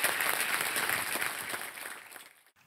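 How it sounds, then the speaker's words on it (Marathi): An audience at a Marathi Mangalagaur festival stage programme claps in a steady, dense wash of applause that gradually thins and fades out near the end. "टाळ्या जरा जोरदार वाजवायला पाहिजेत."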